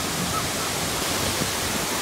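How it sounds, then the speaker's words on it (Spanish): Artificial waves roll through the wave pool at Universal's Volcano Bay water park, heard as a loud, steady, broadband rush of churning water that fills the scene without a break. "Mira, vienen las olas."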